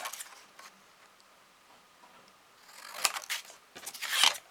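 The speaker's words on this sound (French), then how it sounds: "on va couper ce qu'on vient de tracer" Scissors cut paper along a traced line for a Christmas paper-plate house bag, giving a few quiet snips early and then louder, crunchy bursts of cutting toward the end.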